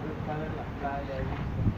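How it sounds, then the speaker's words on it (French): Strong wind buffets the microphone on a windy day in Baja California, a steady rough roar with muffled voices underneath. "c'est vrai qu'aujourd'hui il y a énormément de vent"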